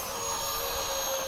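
A-10 jet aircraft engine roaring during takeoff, a steady loud whine with broad rushing noise and sustained high tones throughout, close and continuous.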